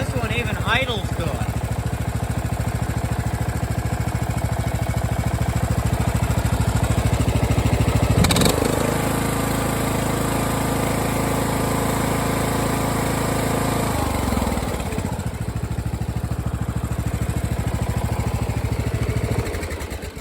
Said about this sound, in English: This one's a pretty decent mower.